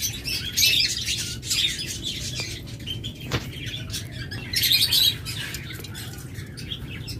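A pair of green rosy lovebirds chirps in sharp, scattered bursts, close by, over a busy background hum and rustle.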